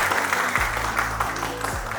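Continuous audience applause at an open mic night with rap, singing and mimicry acts, a steady wash of clapping over a low sustained musical drone with shifting bass tones.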